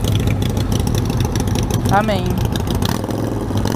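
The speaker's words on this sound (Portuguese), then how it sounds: "Acho muito top o ronco da Hornet com escapamento original, só que sem o catalisador." Honda Hornet motorcycle running with its original exhaust and the catalytic converter removed, a steady low engine rumble throughout with a voice speaking over it.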